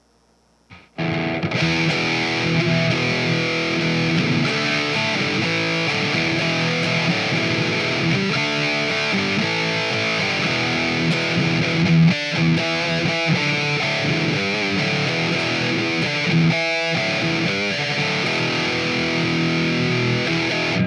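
Heavily distorted electric guitar in low E tuning, through an SY-1000 and Quad Cortex, plays low, chugging riffs and sustained chords, loud and continuous, with brief palm-muted stops.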